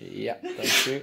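A single close, sharp sneeze bursts out, with brief speech just before and after it.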